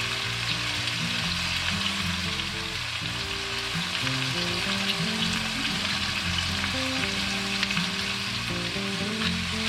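Chicken pieces and garlic fry in a pan, a steady dense sizzle running loud and close throughout, with a low rumbling hum beneath and no talking.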